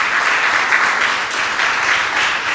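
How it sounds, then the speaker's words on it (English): Loud, dense applause from the audience at a Tobago council meeting, a continuous wash of many hands clapping together without pause. "Give her a lusty round of applause."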